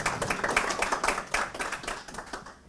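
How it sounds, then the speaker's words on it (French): An audience applauds a speaker at the close of a talk on service brands, a dense run of rapid hand claps from many people, steady and moderately loud before tapering off at the end. "Florent, on peut vous applaudir"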